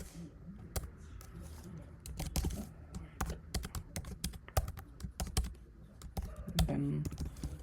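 Rapid typing on a computer keyboard while writing C code on a Linux PC, with bursts of clicky keystrokes at an irregular rhythm over faint room noise and no talk.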